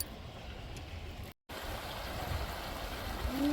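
Continuous rushing of flowing creek water, steady and broad, briefly cut out for a moment then resuming unchanged.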